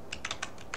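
Quick keystrokes tap on a computer keyboard, about six light, close clicks in under a second with no speech.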